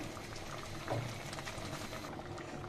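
Red lentils with moringa leaves and salt simmer quietly in a pot, a faint, steady bubbling with soft pops, close but low in level.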